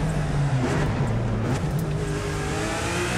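Lamborghini Huracan engine in the racing game The Crew 2, a loud steady drone with rising revs, close and continuous, no talking.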